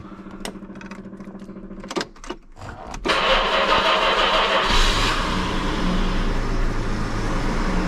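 Jaguar XJ6 Series 1 4.2L triple-carb engine on choke: a few cranking bursts, then it catches and settles into a steady, close, loud idle.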